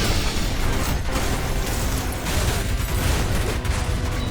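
Dense, continuous barrage of gunfire and bursts in the Ultrakill shooter game, loud and relentless with no pauses or talk.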